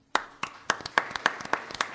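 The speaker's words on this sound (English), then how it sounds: "you can clap for Dylan, I got you" An audience at a summit event claps in a brief, scattered burst of about ten sharp hand claps, fairly close, with no speech over it.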